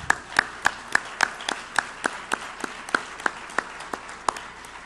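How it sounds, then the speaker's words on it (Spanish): Scattered, individually distinct claps from an awards-show audience, a steady run of sharp hand strikes at a moderate pace rather than a dense roar, sounding slightly distant and fairly quiet. "con un aplauso caluroso también enviamos nuestro cariño a Paola"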